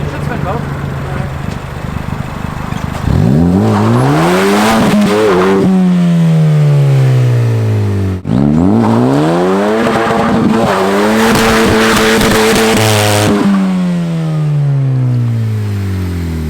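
Specter exotic car revving hard with the clutch dropped, engine note climbing and falling in two long bursts while the tires spin and squeal, loud and close, with people talking around it.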